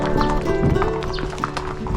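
Horses in a horse-raising village clop along with steady, overlapping hoofbeats on hard ground, fairly close and lively, with a faint whinny and light background murmur mixed in.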